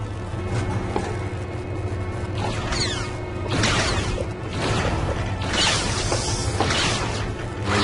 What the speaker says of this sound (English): Another up elevator right here.